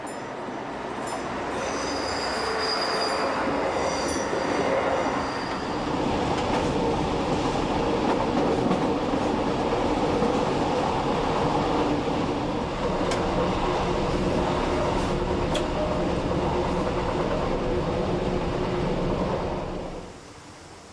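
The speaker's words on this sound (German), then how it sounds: "Auch in Sachsen und Thüringen kommen die Triebwagen zum Einsatz." A Deutsche Bahn class 628 diesel railcar crosses the Göhren viaduct between Rochlitz and Glauchau in Saxony. Its engine drones loudly and the wheels rumble and clatter steadily for about twenty seconds before the sound drops away.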